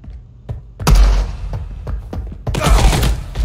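Automatic fire from a Mauser in a video game during a merchant ship raid: two dense, loud bursts of rapid shots, the first around the one-second mark and the second near the end, with softer thumps and clicks between them.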